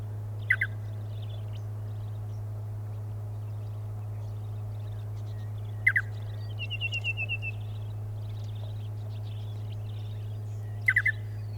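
Short bright bird calls ring out at intervals over a steady low hum, with a brief trilled phrase in the middle; a singing honeyeater calling alone in outback South Australia.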